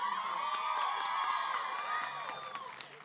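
Audience cheering and whooping at a nursing school pinning ceremony, a steady crowd roar with shrill shouts and scattered claps that stays loud throughout and eases slightly toward the end.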